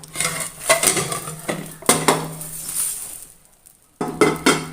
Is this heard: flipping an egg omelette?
yes